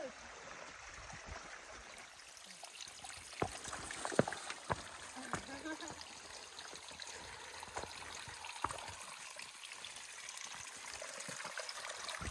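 Water flows steadily along a hiking trail on Vermont's Long Trail, a faint continuous trickling and gushing wash with scattered small splashes and clicks, heard from close by with no clear talk.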